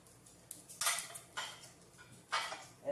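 Melamine plates and dishes are handled, giving a few light clacks and scraping knocks at irregular intervals, quiet and close, with no talk.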